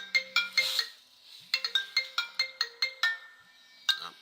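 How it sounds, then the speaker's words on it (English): A phone ringtone for an incoming call plays alone, loud and close, as a quick run of bright, repeated melodic chirps in two bursts separated by a short pause. "Oh, hold on, I got a phone call."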